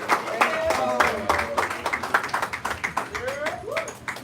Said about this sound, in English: Clap it up for New York's own Red Pillow!